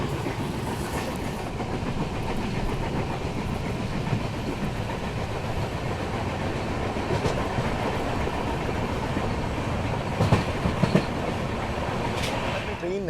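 A passenger train with a 3-tier coach rolls into the Nandgaon station loop, its wheels clattering in a steady, loud rumble with occasional sharper clicks over rail joints.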